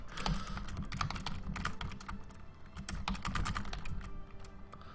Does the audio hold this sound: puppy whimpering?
no